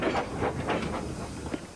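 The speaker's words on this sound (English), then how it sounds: "Edward picked up steam and proudly puffed past Spencer." A steam engine puffs along a railway track with rhythmic chuffing bursts over a steady rumbling hiss, moderately close.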